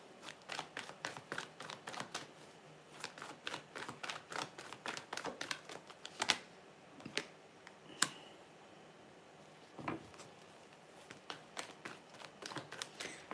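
Tarot cards are shuffled by hand in a rapid series of sharp, close riffling clicks, then a few scattered taps and snaps after a brief pause.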